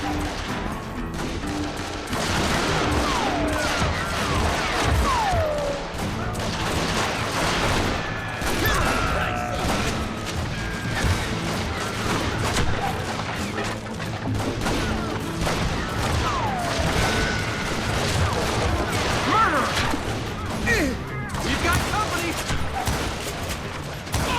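Sustained gunfight in the Western shooter Call of Juarez: Gunslinger, with dense, continuous volleys of gunshots and bursts close by, ricochets and crashes mixed in, and voices shouting over the shooting throughout.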